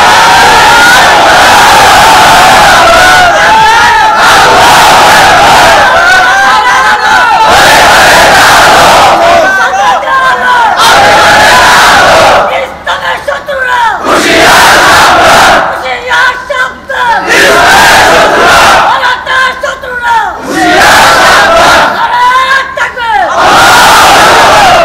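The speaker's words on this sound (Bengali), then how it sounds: "তাকবীর একটু জোরে দেন তো, নারায়ে তাকবীর জোরে দেন" A large crowd at a religious gathering roars the takbir chant in loud, repeated waves, each mass shout swelling and breaking off before the next, filling the whole stretch at full volume.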